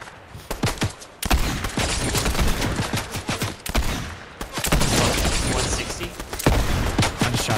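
Rapid bursts of video game gunfire from a Fortnite Zero Build duo match, dense fusillades and machine-gun-like volleys loud and close, broken by brief gaps, with players talking over the shooting.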